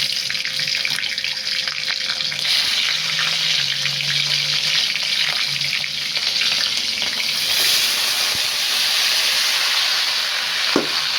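Kalonji and cumin seeds fry in hot oil, producing a loud, steady crackling sizzle that carries on continuously at close range, with a faint clink near the end and no talking.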